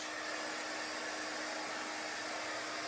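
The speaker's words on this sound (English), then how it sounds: "Just gonna try to dry this wood out." A hair dryer blows on wood left damp by a wet brush, making a constant loud whooshing roar with a steady motor whine that stays level throughout.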